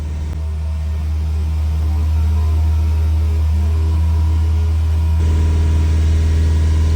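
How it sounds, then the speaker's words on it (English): A Mazda CX-5 engine with a low oil pressure problem held at about 2000 rpm, droning loudly and evenly, its pitch stepping up slightly near the end. "So let me keep revving. I'm still holding it just around 2000 rpm."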